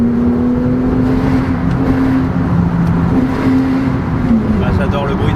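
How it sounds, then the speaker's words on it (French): A Porsche driving in sport mode through a motorway tunnel near Nice, a steady loud engine drone with a sustained tonal whine and road roar echoing around it, while a voice talks over it. "Ah, j'adore le bruit dans les tunnels."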